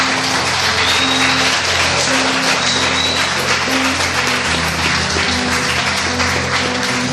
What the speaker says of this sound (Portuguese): Vamos dar um aplauso ao Senhor.